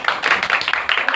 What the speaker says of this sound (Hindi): लो खुदावंद दे खूबसूरत कलाम लिए सी जोरदार ताली बजावांगे।